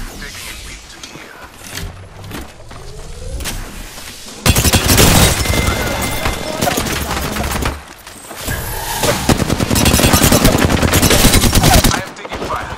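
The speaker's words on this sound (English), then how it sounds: "I am taking fire." Automatic gunfire in Apex Legends: sporadic nearby shots, then two long, loud sustained bursts of rapid fire separated by a short lull.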